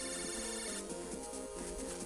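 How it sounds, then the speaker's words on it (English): A repeating electronic phone-call ringtone from the Megaman Battle Network 4 video game, a short chiming pattern looping steadily over background game music, with no talking. "Phone call."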